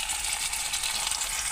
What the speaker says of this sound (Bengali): আমি একটু আদা রসুন পেস্ট এর মধ্যে দিয়ে দিচ্ছি